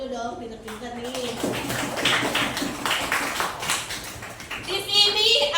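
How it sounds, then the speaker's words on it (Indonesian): A classroom of children clapping together on request in a lesson on fractions, a ragged burst of claps mixed with chatter and a teacher's voice. "Tepuk tangan dulu dong"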